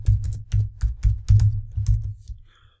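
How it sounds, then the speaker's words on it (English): Someone types a question into a customer service chatbot on a computer keyboard, with a quick run of close, crisp keystrokes in small bursts that stops near the end, leaving only a faint tone. "he will click there and then start typing, ask something."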